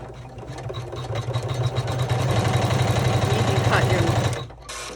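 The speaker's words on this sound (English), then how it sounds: "now we're going to run the final bean stitch" An embroidery sewing machine runs a final bean stitch on a fruit-themed TV remote case, a steady rapid mechanical whir and needle clatter that builds and then stops near the end, close and loud.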